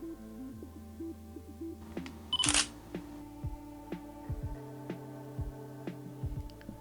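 Camera shutter firing once on a lens fitted with a 16 mm extension tube, a sharp close click in a quiet room surrounded by soft handling noises and low electronic hum.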